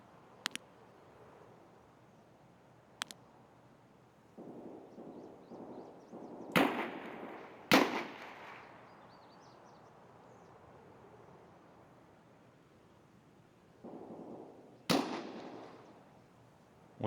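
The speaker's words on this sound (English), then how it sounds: "fast-firing suppressed weapon" Distant suppressed gunfire from a fast-firing weapon echoes in a video game, coming as short bursts of muffled rapid shots and sharp cracks spread across a quiet background.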